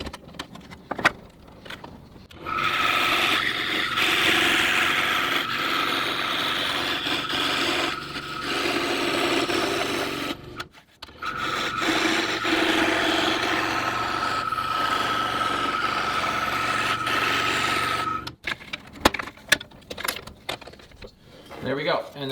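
A scroll saw cuts away material from a wooden trunnion part for a disk sander build, with two long steady buzzing runs of the blade broken by brief pauses and quiet handling in between.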